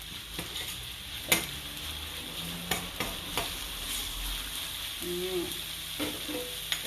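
Pork belly being stir-fried in a pan, a steady sizzle under scattered sharp scrapes and clinks of a utensil stirring, close and moderately loud, no talking.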